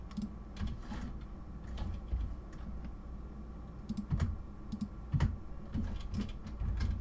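Quiet, irregular clicking of keys on a computer keyboard, soft taps in short bursts up close with no voices.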